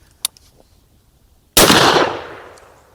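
A single loud, close gunshot from a Rossi Brawler firing a Grizzly .45 Long Colt round, a sharp blast with a long echoing decay, preceded by a few faint clicks.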